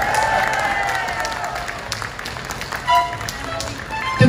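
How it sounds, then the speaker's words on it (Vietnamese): Applause from a concert audience at an overseas Vietnamese music show, a dense wash of clapping that holds steady throughout, with a few sharper claps standing out near the end. "Xin cho tất cả mọi người Việt nơi đây một tràng pháo tay thật lớn."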